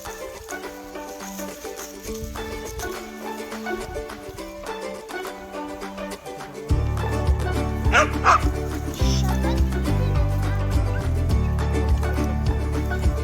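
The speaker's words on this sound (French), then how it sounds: "Les chiens, ils s'éclatent." Dogs bark repeatedly while playing, the barks coming in bursts over a busy, fairly loud background with occasional voices.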